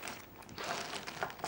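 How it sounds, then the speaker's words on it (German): Plastic crinkling and rustling as a bag is pulled open, continuous and close, with small sharp crackles throughout. "Jetzt muss ich mal die Tüte hier öffnen."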